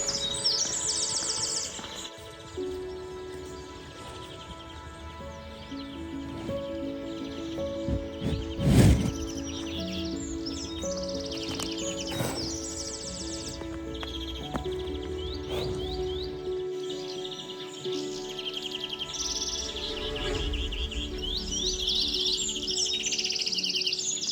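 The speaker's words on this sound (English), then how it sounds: "The morning birds are performing a symphony of chirps, as if to bid me farewell before my 38-kilometer trek across the flat Spanish plains." Morning birds on the flat Spanish Meseta plains along the Camino de Santiago, chirping and tweeting steadily in a layered chorus with a continuous low background hum, calls overlapping throughout.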